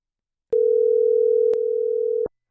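An outgoing telephone call gives a single steady ringback tone lasting under two seconds, clean and alone, with clicks at the start and end.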